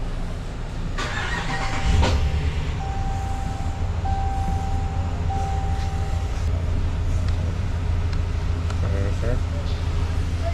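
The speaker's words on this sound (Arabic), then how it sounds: "شغل السيارة." A Dodge RAM 1500 HEMI engine cranks and settles into a steady low idle nearby, a constant rumble throughout with a few brief beeps over it, and people talking in the background.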